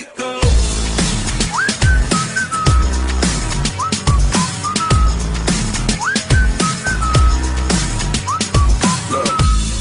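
A whistled melody runs through a song, repeating short rising-then-sliding phrases over a steady beat with thumping bass, loud and prominent throughout.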